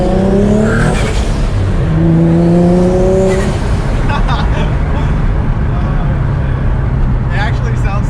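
Single-turbo Nissan 350Z HR accelerating hard, its engine note climbing through rising pulls with a blow-off valve, heard from inside the car as a loud, continuous roar with speech over it.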